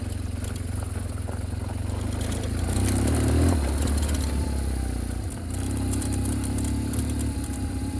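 BMW GS motorcycle moving slowly on very gentle throttle during a riding course, a low steady engine hum with a slight swell partway through, close by and without talk.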